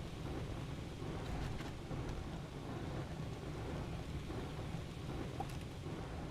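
Thunderstorm in the space exploration game Astroneer, a steady wash of rain and rumbling thunder filling the whole stretch at a constant, moderate level with no voices.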